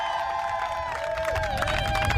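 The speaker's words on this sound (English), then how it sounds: "Crowds gathered to watch athletes carry the flame past the Eiffel Tower and the Arc de Triomphe" A crowd gathered along the Paris streets near the Eiffel Tower and Arc de Triomphe for the Olympic torch relay: steady hubbub with cheering and scattered clapping, and a sustained tonal sound running through it.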